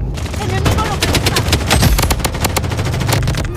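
Rapid automatic gunfire from the shooter game Blood Strike rattles in dense, loud bursts nearly without pause, with sharp individual shots standing out near the end.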